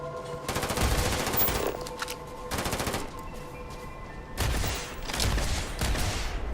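Rapid gunfire in the space game Starfield, loud and close, in several long automatic bursts separated by brief pauses.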